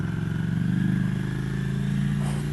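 Ducati Scrambler Icon, a 2015 motorcycle fitted with a Termignoni exhaust, rumbles steadily under way with a deep, loud, throbbing engine note from close by, lasting throughout with no talk.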